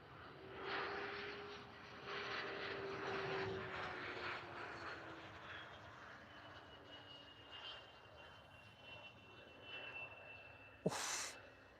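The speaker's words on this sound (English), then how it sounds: "Still a bit hard on the old landing there." An airliner lands at Liverpool Airport, its engine drone rising and falling at moderate distance with a faint whine, ending in a brief sharp burst of noise.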